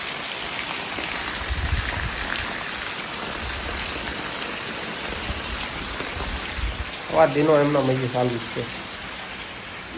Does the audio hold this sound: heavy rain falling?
yes